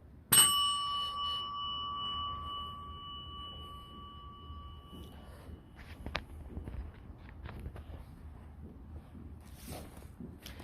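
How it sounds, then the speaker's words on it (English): A bell rings once near the start, a bright sharp strike with a long ringing decay that fades over several seconds, followed by faint footsteps and quiet room noise. "Let me ring the bell for the first time now."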